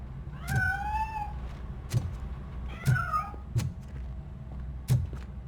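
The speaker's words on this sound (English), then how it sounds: "That cat must be hiding inside. Let me lure it out." A cat meowing several times in the RoboCop Rogue City video game, the cries rising and falling over a low background hum, with soft thuds between them.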